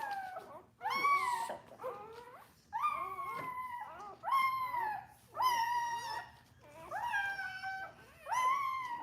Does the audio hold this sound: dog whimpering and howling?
yes